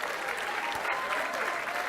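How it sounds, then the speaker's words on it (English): Dense crowd applause at an awards ceremony for finalists and winners, many hands clapping in a full, steady roar with a faint thump partway through. "Let's have one more round of applause."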